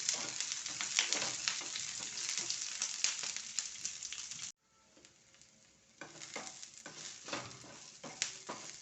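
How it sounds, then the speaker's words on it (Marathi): Onions frying in a spoonful of oil in a pan, a steady dense sizzle with crackles that cuts out briefly midway, then resumes a little quieter with scattered pops. "थोडं तेल टाकायचं एक चमचा घेतो आणि कांद्यालाही छान भाजून घ्यायचं"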